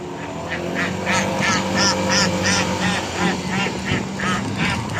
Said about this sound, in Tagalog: Ah, kumakanta yung itik mo idol ah.